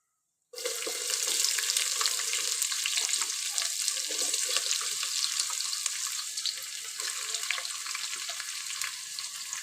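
Spices, onions and green chillies frying in oil for vegetable biryani, a loud steady sizzle that starts abruptly and crackles continuously throughout, with no talking.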